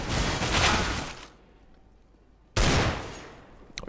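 Two loud bursts of MAC-10 submachine gun fire from a Counter-Strike match on de_train, each a dense rapid rattle of about a second, separated by a quieter gap with faint ambient game noise.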